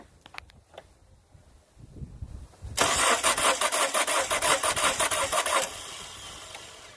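A 2005 Dodge Neon 2.0L engine with a bad head gasket cranks on the starter during a compression test, with a rapid, even chugging rhythm for about three seconds before stopping abruptly, after faint handling noises.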